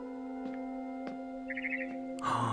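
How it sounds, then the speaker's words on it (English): A barn swallow in the video game What Remains of Edith Finch gives a quick run of short, bright chirps over a sustained ambient music drone, followed by a louder rustling swell. "It was a barn swallow going back to her nest."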